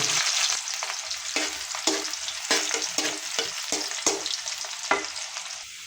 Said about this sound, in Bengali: এখন দিয়ে দেবো পেস্ট। পেস্টটা বাদামি রং হওয়া পর্যন্ত অপেক্ষা করব।